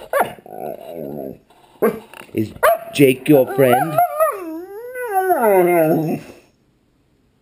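A dog whines and growls in drawn-out, wavering whimpers, close by, while a person speaks briefly in between.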